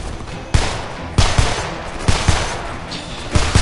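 Rapid bursts of gunfire in the video game Homefront, several sharp shots in quick succession over a constant noisy background, loud and close.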